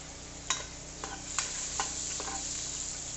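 Meat goes into a hot pan with garlic and is sautéed, giving a steady low sizzle with a few sharp clinks of a utensil scraping and stirring close by.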